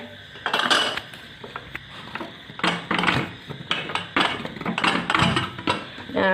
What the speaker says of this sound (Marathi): हे कुकरचं झाकण मी काढते